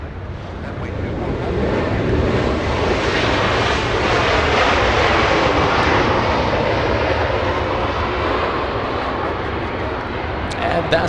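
An airplane roars past at Los Angeles International Airport, a loud, sustained jet engine rumble swelling and fading slowly over about eleven seconds, with faint voices under it.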